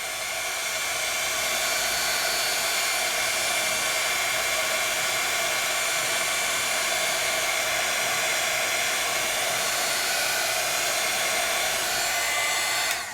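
A heat gun blows hot air over shrink plastic during a family craft session, a steady loud rushing whoosh that holds unbroken for several seconds before cutting off at the end, with no talking.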